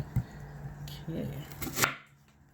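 Quick rough chop of food on a cutting board while making a cheesy shepherd's pie: a handful of close, irregular knife strikes against the board with quiet gaps between them.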